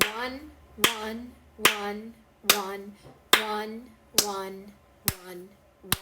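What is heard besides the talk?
hands clapping a quarter-note rhythm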